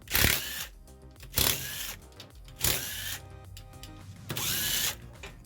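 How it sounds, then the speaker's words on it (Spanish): A power tool backing out the engine cover screws on a 110cc motorcycle after the oil has been drained, whirring in four loud, close bursts with short gaps between them. "luego que drenamos el aceite, procedemos a sacar todos los tornillos de la tapa"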